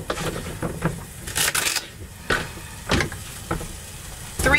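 Three slices of chopped bacon fry in a pan with a soft, steady sizzle, broken by intermittent clattering bursts that sound like stirring or utensils knocking against the pan.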